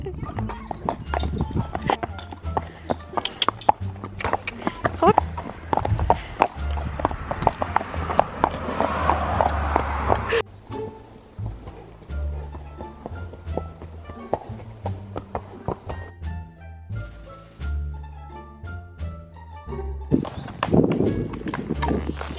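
Hooves of a horse clip-clop on a ride out, a steady series of sharp near knocks through most of the stretch, with people talking over them at times.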